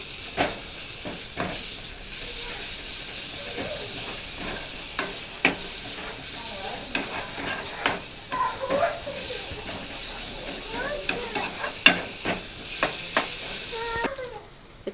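Ginger and garlic fry in a pan and are stirred, giving a steady soft sizzle broken by scraping stirs and sharp spatter pops, with a person talking intermittently.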